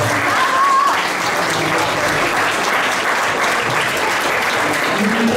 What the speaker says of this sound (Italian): Un applauso se lo merita.